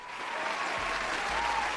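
A crowd gives a short, steady round of applause, dense clapping throughout with no voices over it.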